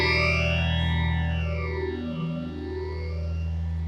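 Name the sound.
guitar through PastFx rotary phaser, feedback, 10-stage mode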